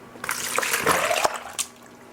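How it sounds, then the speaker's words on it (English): Potatoes are rinsed in a bowl of water to wash out starch, giving close, moderately loud splashing and sloshing for about a second and a half before it trails off into quiet dribbles. "I will add these to the water and rinse as much starch out of them as I can get"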